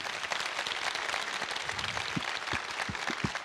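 Audience applause at a fan convention panel with actors in Toulouse, a dense, steady patter of many hands with a few distinct nearby claps toward the end.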